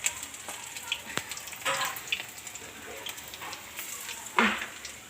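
Bok (sesbania) flower fritters frying in a wok, a low crackling sizzle with brief louder bursts, heard close with faint background noise.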